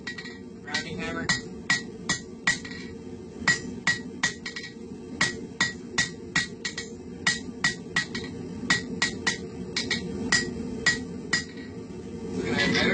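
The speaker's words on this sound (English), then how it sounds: "Rounding hammer." Rounding hammer striking hot steel on an anvil while forging a leaf hook, a long series of sharp ringing clinks in an uneven rhythm, close and clear, over a low background hum.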